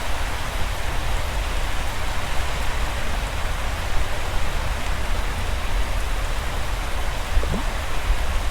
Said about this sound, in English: It's raining. It was a storm that day.